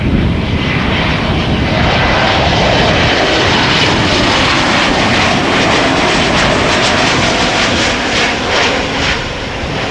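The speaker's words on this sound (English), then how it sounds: "JetBlue arriving from Boston." A JetBlue airliner arriving from Boston roars past with loud, sustained jet engine noise that fills the whole clip steadily, close and continuous with no talk.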